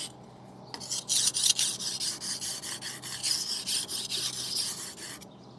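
A knife drawn across a 1000-grit whetstone, close steady rasping strokes in a rapid even rhythm after a quiet start, gritty and scratchy with no voices over it.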